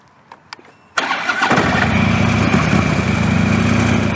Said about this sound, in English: I'm gonna get on this bike here, gear up, and I'm gonna ride it for you.